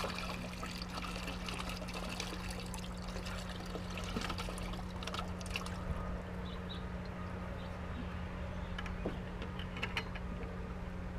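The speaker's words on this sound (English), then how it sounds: "I am just going to pour this bucket in there" Water poured from a bucket into an IBC tote fish pond makes a continuous splashing, gurgling stream over a steady low hum, with a few brighter splashes toward the end and no talk.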